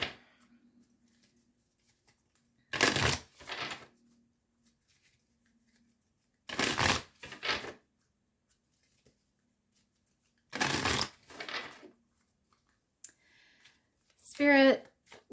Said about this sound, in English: I'm just going to shuffle the deck here again